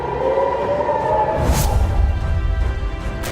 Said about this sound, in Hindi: धमाका होता है और सायरन बजने लगता है